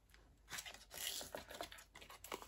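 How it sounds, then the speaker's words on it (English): Thin card stock being folded over and creasing, with crisp crackling and tearing-like crinkles in several short bursts, close and fairly quiet with no talking. "I'm just going to fold a portion of this away"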